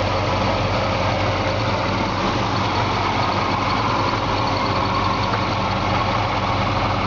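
A 1964 Ford Galaxie 500 with the Z-code V8 idles steadily and close by, a smooth, even low rumble that holds for the whole stretch with no voices over it.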